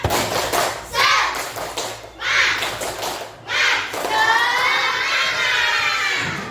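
Schoolchildren in an Indonesian classroom chant a loud, rhythmic clapping cheer, the tepuk semangat. Bursts of shouting alternate with claps, and the voices swell into a sustained group cry at the end.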